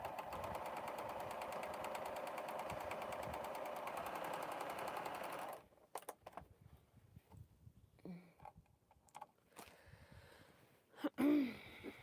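A sewing machine runs steadily for several seconds, stitching name badges at a fast even rate, then stops, leaving quiet handling noises, a few bumps and a brief louder knock near the end.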